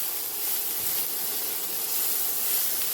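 Onions with a pinch of salt frying in a pan toward light brown, a steady close, even sizzling hiss with no voices.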